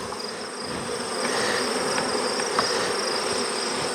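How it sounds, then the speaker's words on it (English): Bees buzz steadily around the screen bottom of a beehive nucleus box, a close, continuous droning hum with no voices. "Oh, there's bees all over the bottom of it too."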